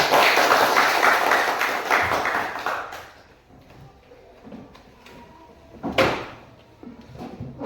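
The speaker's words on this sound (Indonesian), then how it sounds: "kita beri tepuk tangan untuk" A classroom of students claps for a presenter, a dense burst of applause for about three seconds that then thins into scattered claps, taps and light movement, with a voice briefly heard.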